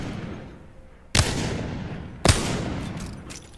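Two sharp, loud Wingman revolver shots from an Apex Legends-style shooter ring out about a second apart, each trailing off in a short decaying echo, with no voices.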